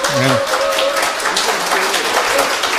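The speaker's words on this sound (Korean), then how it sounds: "이 두 분들에게 다시 한번 박수 한번 드려주세요" A live audience at a public-broadcast political party event applauds two guests, with a steady wash of clapping running through the whole stretch and a voice calling out briefly at the start.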